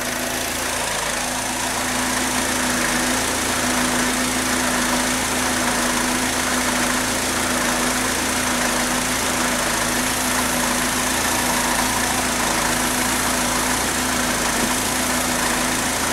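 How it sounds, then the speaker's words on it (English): A car engine idles with the air conditioning compressor running, a steady close mechanical drone with a constant low hum and vibration throughout. "the compressor just decided to kick on"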